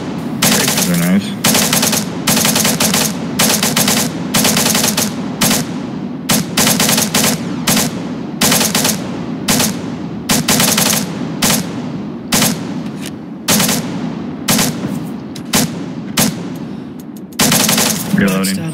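Suppressing machine-gun fire in a video game, long loud bursts of rapid automatic shots in near-continuous volleys with brief pauses between them.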